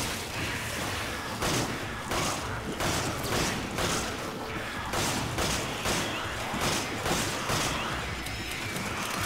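Gunshots in the video game Resident Evil 5 Mercenaries: a series of loud, sharp bangs at roughly regular intervals over a constant wash of game noise.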